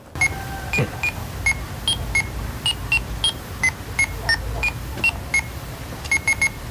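A short electronic-sounding melody of bright, evenly spaced beeping tones repeats a familiar signal tune, played clearly over a low background rumble.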